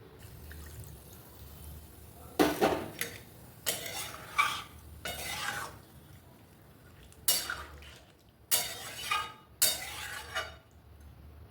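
Leafy greens stirred in a cooking pot: about seven separate bursts of wet scraping and metallic clatter, spaced by quiet pauses, close and moderately loud over a faint background hiss.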